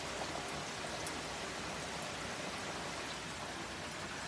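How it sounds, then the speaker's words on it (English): Pouring rain outside, heard from indoors as a faint, even, continuous hiss with no distinct drops or voices. "Y'all hear the beautiful rain sounds?"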